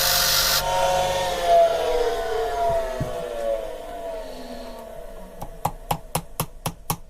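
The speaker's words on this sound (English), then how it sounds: "I might have a Torx screwdriver which will actually sit on that" Scraping and grinding as a T25 Torx screwdriver works loose a screw on a Mitsubishi FTO manual gearbox, ending in a quick run of sharp, evenly spaced clicks; no talking.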